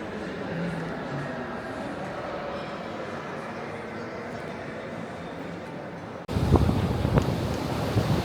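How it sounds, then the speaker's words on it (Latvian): Strong wind outdoors on Crete buffets the microphone with a constant rumbling roar, then a sudden louder, gustier burst takes over near the end. "Baigais vējš, bet nav augsts."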